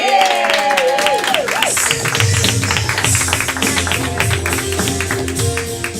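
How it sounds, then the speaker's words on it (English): A crowd at a live game-show event breaks into lively applause, dense clapping that carries on for several seconds, with a voice speaking briefly at the start. "Clap for everybody!"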